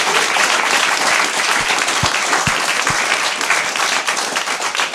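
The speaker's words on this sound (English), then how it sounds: "round of applause for Jenny." Live audience inside the Filson store in Vancouver applauding loudly and close, a dense burst of clapping with a few sharp low thumps partway through, tapering slightly near the end.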